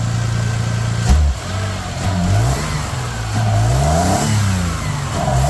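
A car engine on a maintenance project is revved several times to check throttle response, climbing and falling in pitch between blips, loud and close with no talk.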